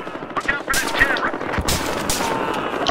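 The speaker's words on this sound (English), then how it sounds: "I don't like that sniper noise" Sniper rifle fire in the Battlefield Hardline multiplayer shooter on Xbox One. Several sharp, loud cracks ring out at irregular intervals over other battle noise, and voices talk in the background.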